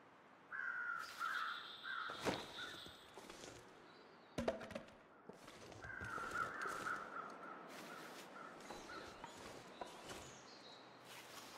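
Crows in The Long Dark video game give several harsh caws in two separate bursts, fairly distant over a quiet wind-like background, with a few sharp thuds and footsteps in between.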